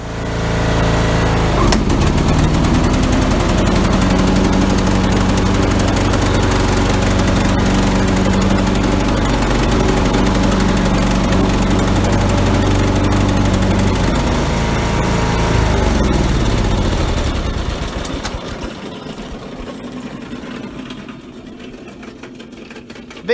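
A Craftsman riding lawn mower engine runs loud and steady close by, its pitch wavering as it struggles, then fading and settling lower near the end; no one speaks.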